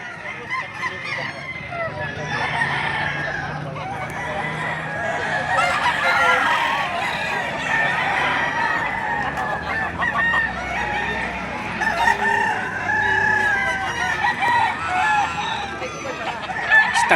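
Young gamecock roosters (stags) crowing amid a busy livestock market in Padre Garcia, Batangas, repeated crows rising over steady crowd chatter and background noise throughout.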